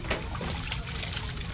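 Tap water runs steadily at a house while a motorcycle is being washed, giving a continuous close splashing hiss with no voices.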